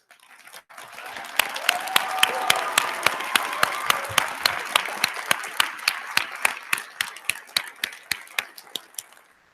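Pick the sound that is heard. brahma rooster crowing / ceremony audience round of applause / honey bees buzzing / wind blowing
ceremony audience round of applause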